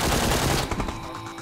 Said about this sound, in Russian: Каяк стреляет с той стороны.